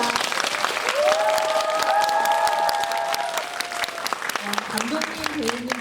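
Sustained audience applause fills a film screening Q&A at a cinema, dense and steady with scattered cheers, while a voice talks over it through much of the clip.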